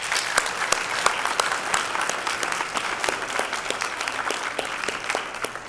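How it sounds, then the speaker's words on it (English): An audience at an awards ceremony gives a round of applause: many distinct, crisp individual claps layered into a lively, moderately loud patter that continues evenly throughout. "But I think a round of applause is an honor."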